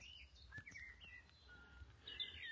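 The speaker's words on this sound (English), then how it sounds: "Chiff-chaff in the distance." Distant birdsong on a hillside walk above Ventnor, Isle of Wight, with a chiff-chaff among the faint scattered chirps and short whistled phrases, heard alone over quiet open air.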